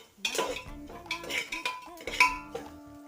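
Metal spoon stirring mustard seeds in a cooking pot, scraping and clinking against the sides in uneven strokes, close and fairly loud, with no talk.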